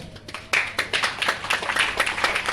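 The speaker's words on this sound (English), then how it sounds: "Clap for the church." A church congregation breaks into brisk, dense clapping, many hands striking in a quick, lively patter that starts after a brief pause and continues steadily to the end.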